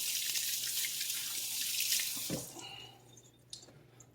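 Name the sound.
rinsing fingers under running sink tap water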